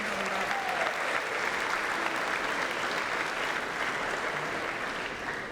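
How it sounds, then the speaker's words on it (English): A large audience at a student-athlete leadership summit gives a steady round of applause, dense, even clapping filling the hall without letting up. "Let's give her another round of applause."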